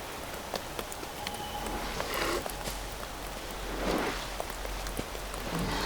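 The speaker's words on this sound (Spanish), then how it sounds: "Y ahora tenemos que arrancar porque está lloviendo." Steady rain falls outdoors near the coast, a dense continuous patter of drops on surfaces with no voices and a few slightly heavier swells.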